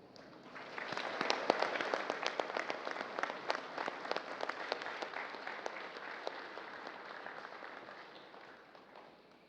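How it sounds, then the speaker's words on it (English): Applause from a ceremony audience welcoming the President of the Philippines at an armed forces change of command ceremony, a dense, sustained clapping that swells within the first second and then slowly fades over about nine seconds. "please welcome with a warm round of applause the President of the Republic of the Philippines, Ferdinand Romualdez Marcos Jr."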